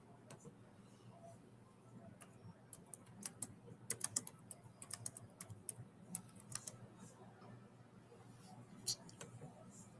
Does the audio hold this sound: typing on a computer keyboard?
yes